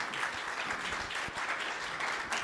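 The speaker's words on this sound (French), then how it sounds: "Merci, on peut les applaudir." Audience at a talk on industrial plant production applauding the presenters, a dense, steady patter of hand claps filling the room, moderately loud and continuous with no voices over it.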